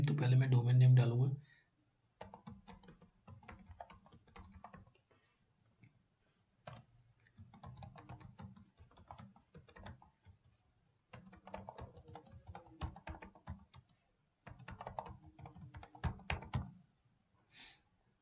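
Fingers type a domain name on a computer keyboard in irregular bursts of soft, close key clicks with short pauses between them. Someone speaks in Hindi at the start.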